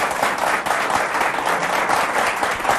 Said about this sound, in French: S'il vous plaît, d'applaudir très fort pour Abdourahmane